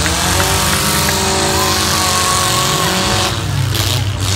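Demolition derby cars revving hard at close range, loud raw engine roars with shifting pitch and a brief tire squeal, a dense mechanical din throughout.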